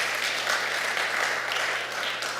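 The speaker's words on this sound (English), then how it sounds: "we can clap for that" Continuous applause rises from a community summit audience in the middle of a civic speech, a steady, moderately loud wash of clapping with a low constant hum beneath it.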